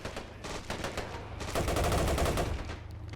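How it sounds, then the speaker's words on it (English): A Bren light machine gun fires rapid bursts in a World War II battle game, with the rattling volleys loud and close, mixed with other gunfire from the fight. "Got a Bren gun on the road, suppressing the German MG42 on the right side."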